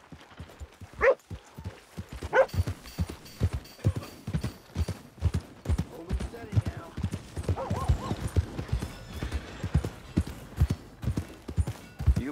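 Horse hooves clip-clopping at a steady walk in the Red Dead Redemption 2 video game, a continuous close rhythm of hoof falls with a couple of brief snorts and game voices talking over it.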